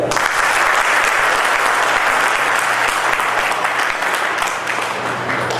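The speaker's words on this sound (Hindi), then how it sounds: "और एक बार 2 बार तालियां बजाइए" Sustained applause from an audience at a product information talk, a steady, loud crowd of clapping hands holding evenly throughout with no voices over it.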